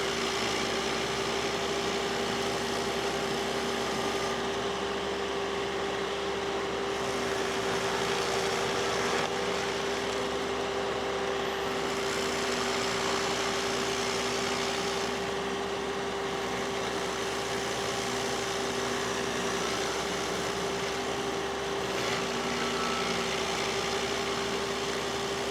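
A stump grinder runs steadily at the back of a rural property, its engine droning with a constant hum as the cutting head chews quickly through a badly rotted stump, loud and continuous with no talk.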